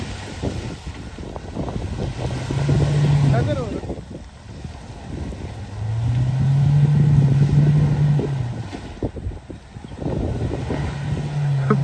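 Mahindra Thar off-roading through mud in light rain, engine revving in repeated surges that rise and fall, heard close over wind buffeting the microphone, with voices talking in the background.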